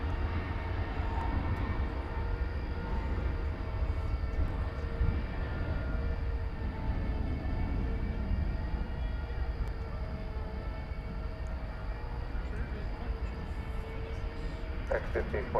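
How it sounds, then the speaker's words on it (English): An airliner on the runway at DFW Airport, departing on a flight to Phoenix: a loud continuous engine roar with a deep rumble, steady throughout, with faint background voices. "So here goes the flight to Phoenix on runway"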